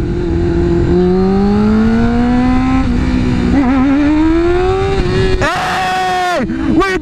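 Motorcycle engine revving hard and rising in pitch during a wheelie attempt, with a sharp throttle blip and shifting near the end, loud and close throughout, with people's voices mixed in.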